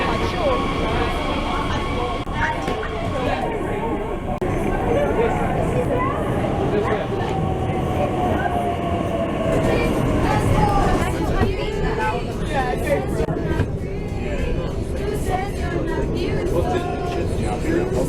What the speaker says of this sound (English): we are now taking the train to the central station where our hotel is